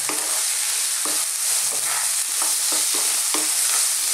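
Ground cumin and coriander powder are stirred in a hot pan, with a steady sizzle under regular scraping strokes about twice a second, close and unaccompanied by speech.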